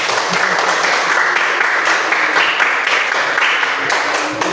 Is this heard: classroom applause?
yes